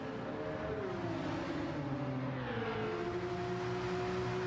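A race car engine in the Gran Turismo 7 racing game, closing up behind a Red Bull Porsche in a race, drones loud and steady with a gliding pitch that dips and climbs again as the car shifts and accelerates.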